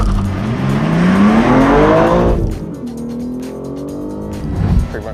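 A manual BMW M3, a Cadillac Blackwing and a Ford Maverick launch together off the line in a drag race, engines roaring loudly and rising in pitch with a brief tire chirp, then receding into a fading drone.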